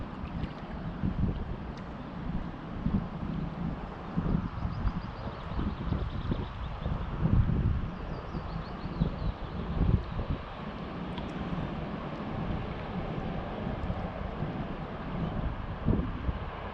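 Wind blows steadily on the bank of the river Tay while someone is salmon fishing, a continuous low rumbling buffet against the microphone with gusty swells and no speech.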